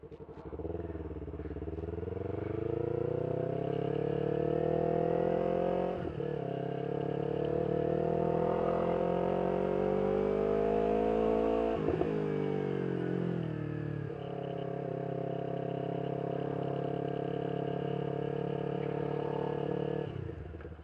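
A Yamaha R3 motorcycle rides on the road with a steady, loud engine drone that holds its pitch, dipping briefly at two gear shifts and then resuming. No one speaks.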